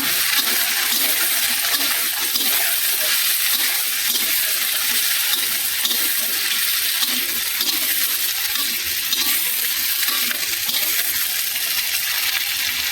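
Mixed vegetables for sukto sizzle in hot oil while being stirred, a continuous bright frying hiss with scattered clinks and scrapes of the utensil, steady and fairly loud throughout with no talking.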